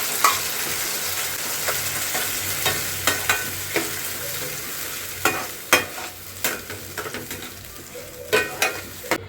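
Ground masala paste for prawn ghee roast frying in a pan, a steady close sizzle broken by repeated scraping stirs and clinks, with no talking.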